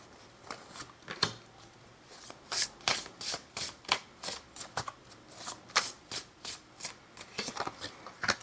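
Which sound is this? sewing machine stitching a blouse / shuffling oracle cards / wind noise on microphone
shuffling oracle cards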